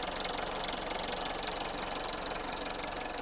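A 2016 Tata Indigo car engine idles with smoke and oil coming from the engine. It makes a steady, close, even rumble with a fast rhythmic knock throughout, and no one talks over it.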